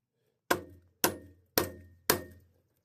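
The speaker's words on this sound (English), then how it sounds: "And then you take your hammer, right? Your big whacker machine" Four sharp metallic hammer blows, evenly spaced about half a second apart, driving a part into place on a Jetta wagon engine during a motor swap; each loud ringing strike decays quickly, with no talking.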